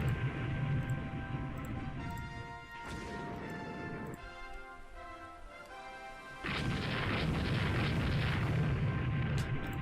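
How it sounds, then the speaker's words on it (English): Naval gunfire in the warship game Rule the Waves 2 during a night action: heavy booming salvos and crashing impacts over a sustained rumbling battle din, with no talking. "We sank it with gunfire."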